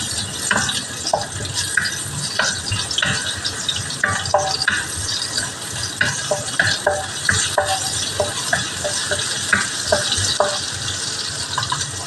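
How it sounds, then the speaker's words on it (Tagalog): Chopped onion frying in oil for callos sizzles steadily in a pan, with repeated scraping stirs of a utensil breaking through the hiss at close range. "Lalagyan na natin ng mantika. Una natin ilalagay itong sibuyas."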